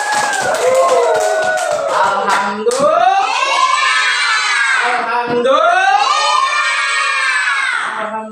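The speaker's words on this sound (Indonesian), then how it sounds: "Tepuk tangan buat kita semua." Children in a classroom shout and cheer loudly in high, sustained voices, with a brief scatter of hand claps at the start, the group sound staying close and energetic throughout.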